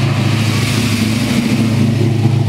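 Car engine revving at close range, a steady mid-pitched growl with slight rises in pitch, heard alone without talk.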